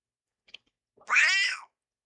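A single cat gives one clear, close meow lasting about half a second, preceded by a faint tiny click, in an otherwise quiet room.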